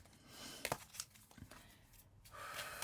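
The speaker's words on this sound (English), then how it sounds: "These are so hard to shuffle because they're circular." Circular oracle cards shuffled by hand, a run of papery riffles, slaps and crinkly rustles that come in uneven bursts close to the listener, with no voice over them.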